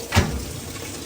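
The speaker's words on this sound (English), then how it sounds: "That's the drain pump. There it is. Drain pump." The drain pump of a Maytag Centennial washing machine, heard during a manual test, runs with a soft watery gurgle and steady low hum that starts with a brief surge, then continues at an even, moderate level.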